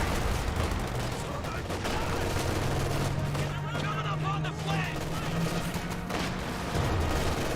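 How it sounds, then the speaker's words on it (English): Dense rifle fire from Grenadier infantry in Company of Heroes 2, crackling shots layered with a steady low engine drone and battle noise, with a voice talking over the action throughout. "Grenadiers firing away"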